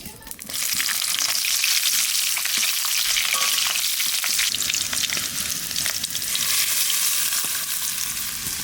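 Nigella seeds and green chillies hit hot oil for a mustard hilsa dish, giving a loud, steady, close sizzle that holds unbroken after a brief quiet start, with faint stirring clatter inside it.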